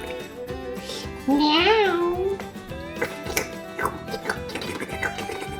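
A single drawn-out cartoonish cat meow in a video game rises and falls over light background music with soft clicks, close and clear.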